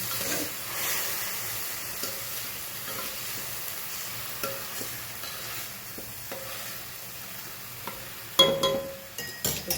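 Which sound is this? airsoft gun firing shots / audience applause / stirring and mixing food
stirring and mixing food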